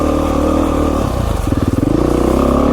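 A Beta 500 RR-S dirt motorcycle ridden on singletrack in Idaho, its single-cylinder engine loud and close throughout, a steady drone that shifts into a throbbing, pulsing note as the throttle changes, with no talking.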